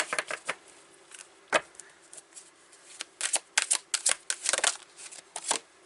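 Mystical Shaman Oracle and Wisdom of the Trees oracle cards being shuffled by hand, with crisp bursts of riffling and slapping card edges that come in uneven clusters, sparse at first and then dense and rapid near the end, alone without talk.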